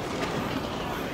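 Train on a Japanese rail line, MRT or LRT, in Osaka, rumbling steadily with dense low clatter and a brief faint squeal, close and continuous for a short moment with no voices.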